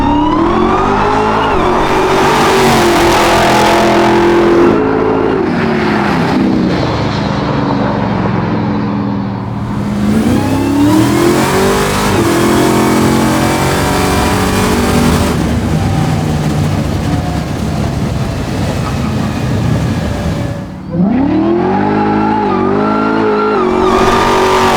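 Supercharged Hellcat V8 in a 1967 Dodge Dart, loud, close revving in repeated rising bursts with supercharger whine and deep exhaust roar, brief dips between pulls and a final surge.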